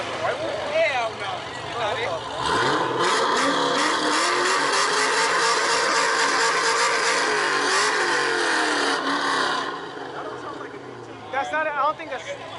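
A car engine revs hard and loudly during an exhaust battle, a sustained roar holding for several seconds before dropping back, with people talking over the sound near its start and end.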